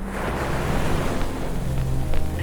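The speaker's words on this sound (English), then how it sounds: "quiet enough that you can hear distant crashing waves" Distant ocean waves crash in a broad, low rumbling wash, steady and far off with no voices over it.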